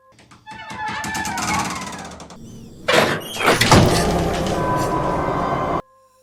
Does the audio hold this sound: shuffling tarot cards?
no